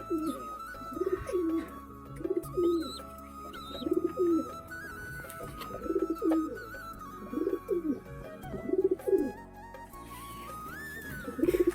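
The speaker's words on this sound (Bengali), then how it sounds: "আর এই যে পায়রাগুলো সব খাচ্ছে বাইরে।" Pigeons feeding outdoors coo repeatedly in soft, rolling calls, several birds close by overlapping in irregular bursts, with faint chirps and a steady background hum.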